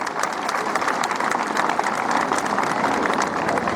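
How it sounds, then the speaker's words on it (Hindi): Loud, sustained applause from a crowd at a voter awareness event in Deoria, honouring a handball athlete who won South Asian Games gold; dense, even clapping continues throughout without speech. "इसके लिए जोरदार तालियां"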